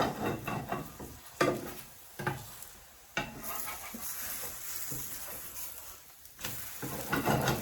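Wartime-style pancake batter fries in butter in a pan, giving a soft steady sizzle with a few scrapes and clinks of a utensil against the pan, close and fairly quiet.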